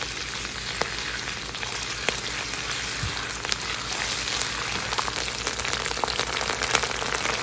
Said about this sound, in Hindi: थोड़ा सा भून लें आप